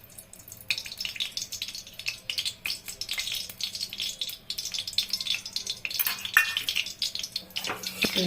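Oil goes into a hot kadai on a gas flame, giving a crackling, rattling sizzle with bursts of spatter and some clinks of metal cookware.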